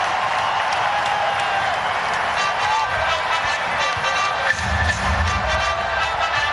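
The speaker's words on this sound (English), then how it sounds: "the crowd on their feet for Scottie Pippen as he comes back into the contest" A basketball arena crowd cheers for Scottie Pippen during a 2000 playoff game between the Jazz and Blazers, with a sustained, loud roar of many voices and scattered clapping that continues throughout.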